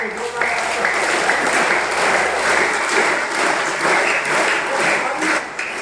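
A school crowd gives a strong round of applause for a schoolgirl named Manisha, a dense steady patter of many hands lasting the whole stretch, with some voices mixed in.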